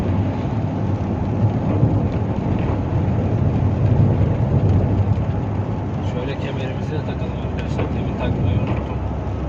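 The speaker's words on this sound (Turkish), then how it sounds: "Yağmur da bayağı hızlandı." Heavy rain drums steadily and loudly on a Fiat Tipo car roof, a dense continuous patter with a low rumble beneath it.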